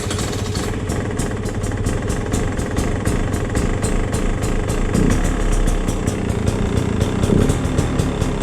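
A Beta 250RR two-stroke dirt bike fitted with a Lectron carburetor idles with the choke off, a steady close engine drone that runs unbroken with slight surges toward the end.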